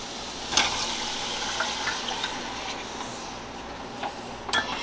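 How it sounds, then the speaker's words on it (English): Clam juice is poured into a pot of butter and flour roux for New England clam chowder, giving a steady liquid splashing and gurgling with a few small clinks, close and continuous. "now what we're going to do is we're going to add our clam juice"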